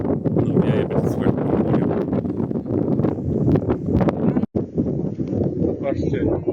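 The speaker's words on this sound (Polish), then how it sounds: "Ale na razie bardzo wieje wiatr." Strong wind gusts batter the microphone beside a WWII submarine, a dense, rumbling roar that surges and buffets continuously with brief dropouts, loud and close throughout.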